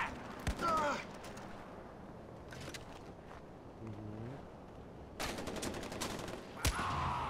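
Gunfire in the video game Far Cry 4, with several sharp bursts and single shots spread across the clip, including a dense volley near the end, over a steady background of game ambience.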